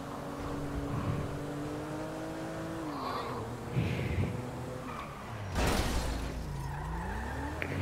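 A stolen car drives in GTA V on PS5, steady engine drone with shifting pitch, a few tire skids, and a louder burst of road noise near the end, with no talking.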